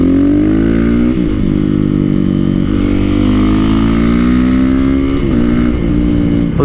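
A Honda CRF450R supermoto motorcycle engine runs steadily and loudly up close for the whole stretch, its pitch drifting gently around a low idle with small wavers.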